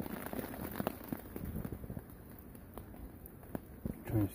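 Steady rain from Storm Francis patters on a hard surface at a hammock camp, with scattered louder drops over a continuous wash, close by and moderately loud.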